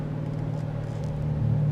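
A 2010 Dodge Challenger R/T engine drones steadily while driving, a low rumbling hum that swells slightly toward the end as it builds speed, with no talking.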